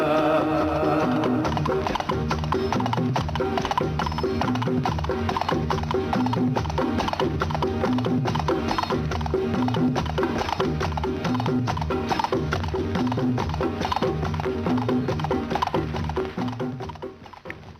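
Horse hooves clip-clop in a steady rhythm through a Hindi film tonga song, heard under continuous music with instruments and a rhythmic beat throughout.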